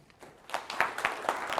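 An audience at a keynote business networking event breaks into applause, a thin, scattered patter of claps building slightly over a couple of seconds at moderate distance.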